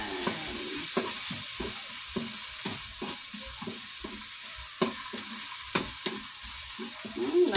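Shrimp heads frying in a hot pan for laing, a steady close sizzle with repeated stirring scrapes of a utensil against the pan at an irregular rhythm, with no talking.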